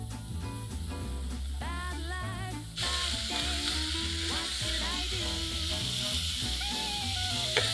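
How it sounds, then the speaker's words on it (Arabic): Celery sautés in butter with chopped onion for a cream of celery soup, a loud continuous sizzle and hiss that swells brighter partway through, with occasional stirring; no one speaks over it. "بيتقلب في الزبدة مع البصلة اللي متقطعة"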